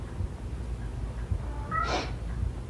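A house cat meows once, a clear drawn-out call rising out of quiet indoor background noise about two-thirds of the way through, with no talking around it.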